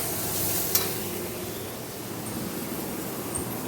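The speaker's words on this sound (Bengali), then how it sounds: "যা তেল ছিল ওর মধ্যে বেগুনটা দিয়ে দিচ্ছি, ভালো করে ভেজে নিয়ে" Eggplant pieces fry in leftover oil in a pan in a home kitchen, giving a steady, close hiss and sizzle that runs unbroken with no voices over it.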